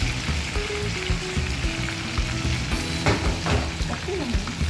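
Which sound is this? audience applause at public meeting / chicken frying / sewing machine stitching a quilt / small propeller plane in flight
chicken frying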